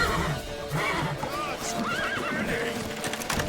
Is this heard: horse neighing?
yes